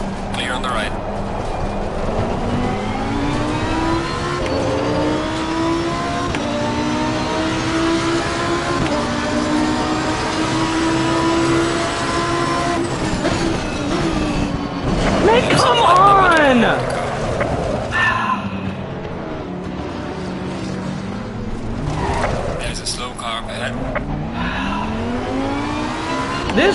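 A race car engine accelerates and revs at Donington Park, sustained and loud with rising pitch sweeps, tire squeal and skidding midway, with a voice talking over it.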